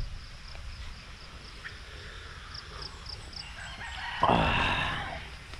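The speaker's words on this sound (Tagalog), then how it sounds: "mga native natin na manok nandyan o" A rooster crows loudly and close by near the end, after a stretch of soft, scattered clucking from native chickens over a quiet outdoor farm background.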